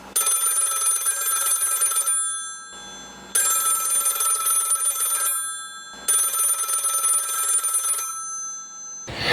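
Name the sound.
telephone ringing, sound effect in a radio play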